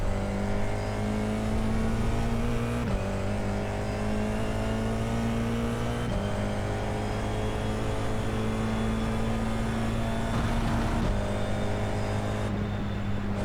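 An F4 race car engine in iRacing at Road Atlanta, a loud continuous whining drone alone throughout, with pitch shifts at gear changes every few seconds.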